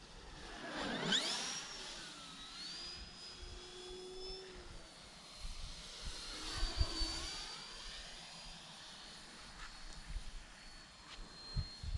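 A Turbo Timber Evolution RC plane goes to full power, its electric motor and propeller whining as the pitch sweeps up and down during close fly-bys that rise and fade with a clear Doppler shift, with no voices.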